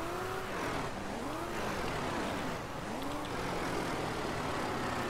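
A car in the video game Ranch Simulator drives with a steady, loud engine drone that rises and falls in pitch as it speeds up and eases off, with no talk over it.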